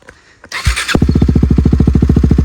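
A motorcycle with a modified exhaust cranks and catches with a burst, then settles into a loud, fast, evenly pulsing idle close by.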